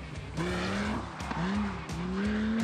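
A Lamborghini Gallardo racing a Ducati 999 and braking hard for a hairpin, with loud engine notes dropping in pitch through repeated downshifts, close and continuous.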